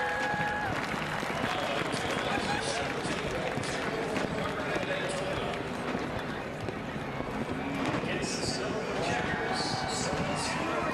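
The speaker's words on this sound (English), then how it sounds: "have a better listen to the roar of the crowd" A big race crowd roars and cheers at the 2017 Coke Zero 400 NASCAR race, a dense, steady wash of distant noise that runs without a break under voices talking.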